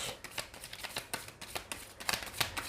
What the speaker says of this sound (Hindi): आपके लिए कार्ड्स को लाइव शफल करूँगी आज